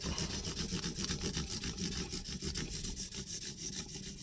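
Fine 2000 grit sandpaper rubbing steadily across guitar frets on a Telecaster-style build, a close, continuous back-and-forth scrubbing with a soft hiss and regular strokes.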